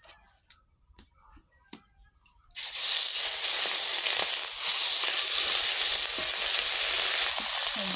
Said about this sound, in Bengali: চলো মাছটা ভেজে নেব।